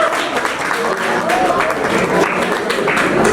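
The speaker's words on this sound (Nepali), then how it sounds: "प्लिज जोरदार तालीले उहाँलाई स्वागत गर्नुहोला" Seminar audience applauding to welcome a speaker at a motivational event, a dense, steady wash of clapping sustained throughout at close range.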